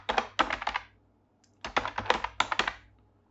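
Quick bursts of clicky typing on a computer keyboard while composing text in Gmail, two clusters of several close, crisp keystrokes separated by a short pause, with no talking.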